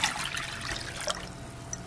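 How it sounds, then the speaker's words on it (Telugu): Water poured from a small glass into tamarind pulp for chintaaku pappu, a soft, close trickling stream, fairly quiet and continuous for a couple of seconds. "సో ఇప్పుడు ఇందులోకి నేను వాటర్ యాడ్ చేస్తాను."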